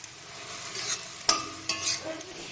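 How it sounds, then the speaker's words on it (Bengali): Pumpkin flowers with salt and turmeric being stirred in a pan, a soft low sizzle broken by a few sharp scraping clinks of the spatula, close and quiet with no voices. "এবার আমি নেড়ে চেড়ে মিশিয়ে নেব।"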